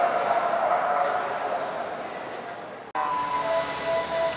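The Walahar train rumbles into platform 5 at Cikarang station with steady rolling noise and a faint high squeal, moderately loud, a brief cut midway.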